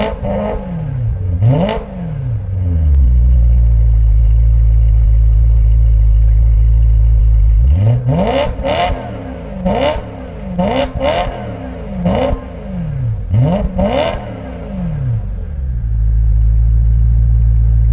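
A naturally aspirated V8 in a BMW E93 M3 convertible revs hard several times, rising and falling sharply over a steady loud idle, with a long sustained rumble in between blips.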